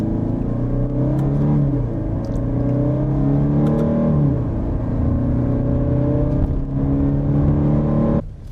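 A Jaguar XF sports sedan in dynamic mode accelerating hard from a standstill, its engine note climbing steadily through long rising sweeps with relaxed gear changes, loud and heard from inside the cabin, ending with a sudden drop.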